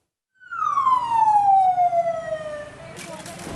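Ambulance siren arriving at a regional hospital in Bengkulu, a loud close wail that sweeps down in pitch, rising abruptly after a short silence and holding strong throughout.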